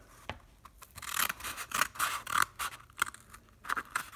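Scissors snip through paper along the outside edge of a drawn circle, producing a series of short, close rasping cuts in an irregular rhythm, heard alone with no talking.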